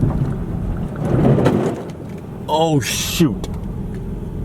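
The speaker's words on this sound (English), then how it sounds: "we definitely just scraped the hell out of the bumper" A car's front bumper grinds briefly across the ground on a rough woodland track, a harsh scrape over a loud engine rumble, with a voice exclaiming just before it.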